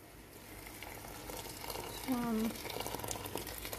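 Hot boiling water is poured into a pan of red lentils, chana dal and fried onions on high heat, giving a soft hissing sizzle under a short spoken count.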